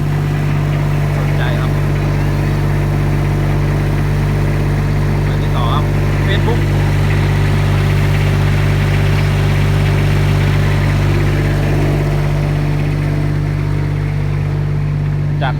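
Thai rot hae sound truck idling, a steady low engine drone with a strong bass hum underneath, continuous and fairly loud, with faint scattered background noises.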